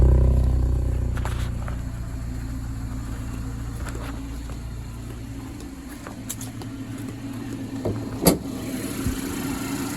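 A 2020 BMW X3's 2.0-litre twin-turbo four-cylinder idles steadily with a low hum, starting louder and settling, with a few faint clicks and one sharp knock late on; no talking is heard.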